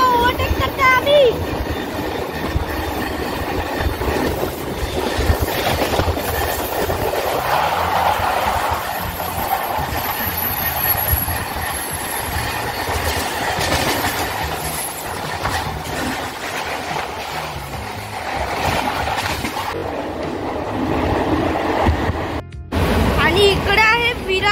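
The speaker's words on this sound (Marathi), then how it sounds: "ही पण बोरीवली स्लो लोकल बरोबर ओव्हरटेक करते आम्ही." A Mumbai local train on a Dadar–Virar double fast special run overtakes a Borivali slow local, giving a steady, loud rolling rumble and rattle that continues throughout the clip.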